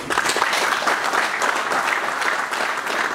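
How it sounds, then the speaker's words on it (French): A workshop audience bursts into sustained applause, many hands clapping loudly and evenly with no talk over it. "Vous pouvez vous applaudir."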